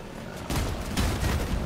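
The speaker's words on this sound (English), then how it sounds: "He's still shooting me?" Rapid bursts of gunfire from vehicle weapons in the Crossout video game crackle loudly and continuously at close range for under two seconds.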